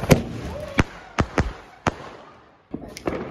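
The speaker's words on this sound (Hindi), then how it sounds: "तो गाइस ये थे सारे पटाखे जो हम लेके आए थे" Diwali firecrackers burst outdoors: about eight sharp, loud cracks go off irregularly, each followed by a brief decay, with a short quiet gap before the last few.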